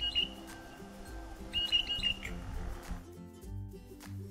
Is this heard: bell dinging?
no